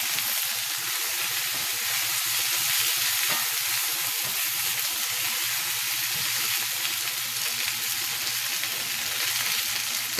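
Mushrooms and coated chicken frying in a covered pan, a dense, steady sizzle with crackling spatter throughout, close and constant.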